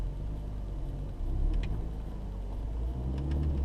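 A Mini One runs on a road test drive after a throttle body and air flow clean, its engine a steady low rumble heard from inside the car with a slight swell as it moves.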